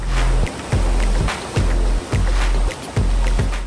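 An SUV pushes through a water crossing in rain, a loud continuous rushing and splashing roar surging in regular waves roughly every second, close to the microphone.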